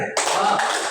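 A group claps the short 'tepuk keren' clap chant at a teachers' training session, a brief sharp burst of hands coming in together, with voices mixed in.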